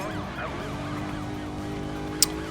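Police car sirens wail in the racing video game Need for Speed Most Wanted, overlapping rising and falling tones over a steady engine drone during a chase, with a brief sharp click near the end.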